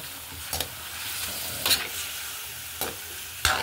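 Chicken and pechay cook in a pot with a soft, steady sizzle, while a few distinct scraping stirs come at irregular intervals over the bubbling.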